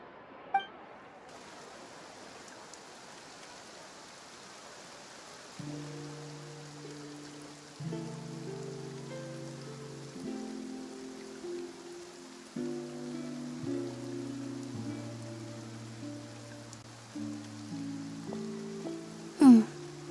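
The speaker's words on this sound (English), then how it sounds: "Looks like rain." Rain falls in Fontaine in the video game Genshin Impact as a soft, steady hiss of drops, joined partway through by gentle layered music notes and a single bright chime near the end.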